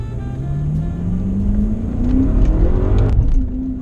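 A BMW F10 M5 with an Akrapovic exhaust accelerates hard from inside, the engine note climbing steadily through the rev range, a brief shift, then pulling again, loud and continuous.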